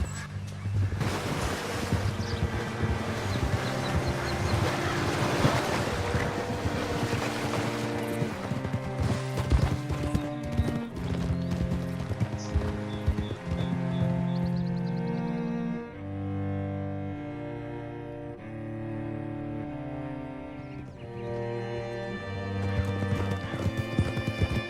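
A horse in the video game Red Dead Redemption 2 clip-clops and neighs, with rhythmic hoofbeats up front, while a swelling orchestral score takes over in the second half.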